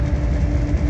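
A passenger train runs between San Roque and Algeciras, a steady, loud low rumble with a constant hum heard from inside the carriage, no voices.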